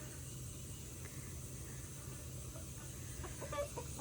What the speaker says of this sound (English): He is a sapphire gem, and that is the first sapphire gem rooster I've had